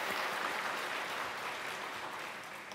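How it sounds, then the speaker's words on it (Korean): A church congregation claps for the Dadeurim and Agape worship teams at a Sunday evening praise service, steady dense applause filling the room throughout, fading slightly at the end. "이들 위해서 다시 한번 감사와 격려의 박수 부탁드립니다"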